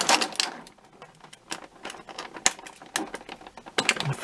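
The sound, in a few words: cutting strings on action figure packaging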